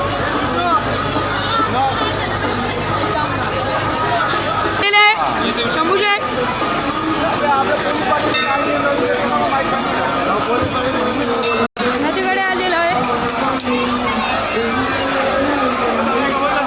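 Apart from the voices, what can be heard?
large crowd at Ganesh immersion procession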